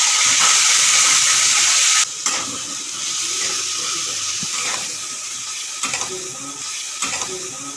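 Potatoes going into hot oil already tempered with bay leaf and cumin, for a home-cooked chhanar dalna: a loud, continuous close sizzle and hiss that drops suddenly, then quieter frying with scattered stirring clatter.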